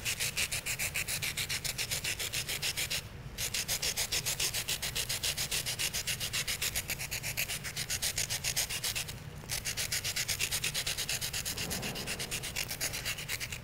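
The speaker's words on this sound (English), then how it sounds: "I'm holding the charcoal at a very shallow angle in relation to the sandpaper" Charcoal stick rubbed at a shallow angle against sandpaper to sharpen it, producing a steady, close scratchy rasp of continuous back-and-forth strokes with two brief pauses.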